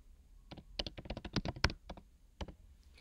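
Quick bursts of keys being tapped on a computer keyboard while a new password is entered, a dozen or so close, crisp clicks over three seconds.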